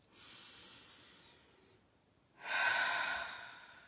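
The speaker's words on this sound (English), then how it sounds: "Let's take a breath on that" Two slow, deep breaths, a long airy inhale followed by a louder, fuller exhale, close and soft, with nothing else around them.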